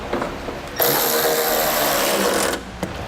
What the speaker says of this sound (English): then you'll take your 13mm socket and tighten down your hardware.